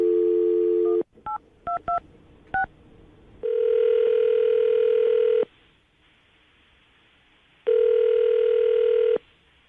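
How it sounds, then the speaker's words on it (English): A dial tone, then a quick run of keypad beeps, followed by two long electronic ringback tones separated by a quiet pause. "we're going to call her right now, see if we can get her on the phone"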